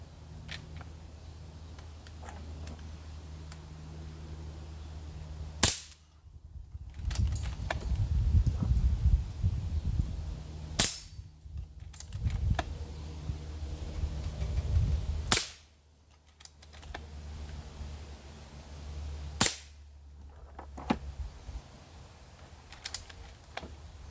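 Air Venturi Avenger .177 air rifle firing Gamma red tip pellets: four sharp, close cracks spaced several seconds apart, with low handling noise and rustling between shots.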